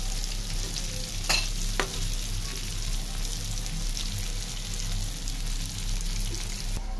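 Hilsa fish pieces sizzle steadily in a hot pan, a continuous bright frying hiss with a couple of sharp utensil clicks near the start, close and alone without talk.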